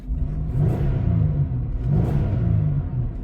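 A 2002 Buick LeSabre's warmed-up engine runs steadily nearby, a low, even rumble with gentle swells in pitch and loudness, as if lightly revved, with no talking.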